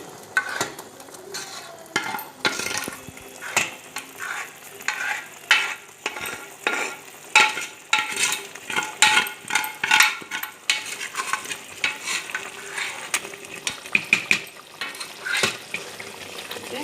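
Sabudana payasam with jaggery is stirred in a cooker pot with a spoon, giving close, irregular scraping and clinking strokes over a soft bubbling sizzle.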